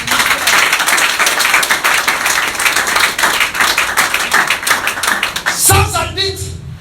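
A church congregation applauds during a sermon: dense, sustained clapping from many hands fills the room, then breaks off near the end as a voice comes in.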